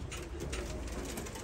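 Low, soft cooing of pigeons close by in a coop, a steady murmur of bird calls with no talking.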